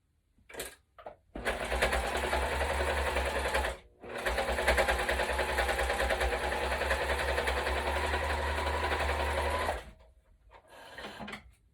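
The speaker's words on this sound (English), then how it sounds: "to the sewing machine, sew down this edge" Sewing machine stitching down the edge of a fabric face mask, a close, steady mechanical whirr in two long runs broken by a brief pause, with short starts and stops at either end.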